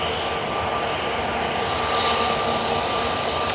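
A TUI Boeing 737-800 jet airliner roars steadily at Manchester Airport, a broad continuous engine rush with a faint whine, moderately loud and unbroken throughout.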